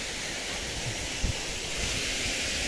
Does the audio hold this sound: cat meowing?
no